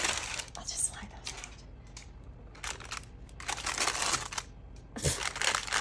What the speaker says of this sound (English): My parchment's ripping.